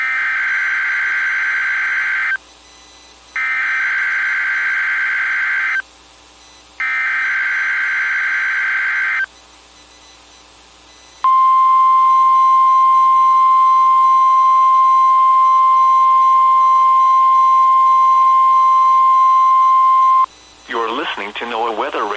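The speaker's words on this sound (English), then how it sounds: "The preceding tone signals were a test of the alarm device of this weather radio station." NOAA Weather Radio alarm device test from the Pittsburgh, Pennsylvania station: three loud, steady two-tone bursts separated by short gaps, followed by one long continuous single-pitch alert tone lasting about nine seconds, then a brief warbling sound.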